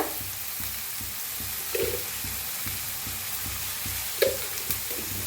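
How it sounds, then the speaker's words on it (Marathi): Chopped cabbage frying in a pan sizzles steadily while a utensil stirs it in regular rhythmic scrapes, with a couple of sharper clinks, close and moderately loud with no talking. "मस्त हलवून भाजून घेतले बघा आता ह्याच्यात आपण कोबी घालून घेऊया"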